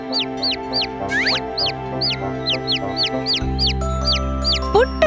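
Rapid, repeated high peeping of a chick runs throughout, with a steady low clucking hum from a hen underneath; close and fairly loud.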